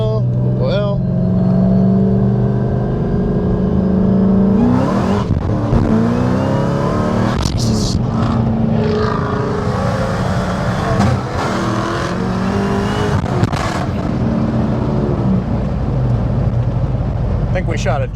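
A roughly 1000-horsepower Dodge Challenger Hellcat with a six-speed manual launching hard in first gear on a warm road, its engine roaring loud and close with rising revs and harsh bursts, while people talk over it.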